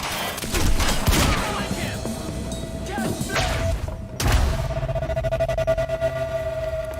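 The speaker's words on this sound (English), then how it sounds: "He's got a gun! Open fire!" Quantum Break shootout with a loud, dense barrage of overlapping gunshots and heavy thuds, a sharp blast near the middle, and shouting voices mixed through the fire.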